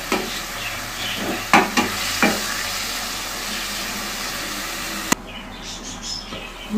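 Black chickpeas roast in a pan while a spoon scrapes and stirs them, with a steady dry sizzle and a few sharp scraping knocks; the sizzle drops away abruptly near the end.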